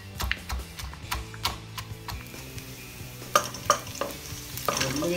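Garlic sautés in cooking oil in a pan for pancit bihon guisado, with a low sizzle under repeated sharp clicks and scrapes of a utensil against the pan.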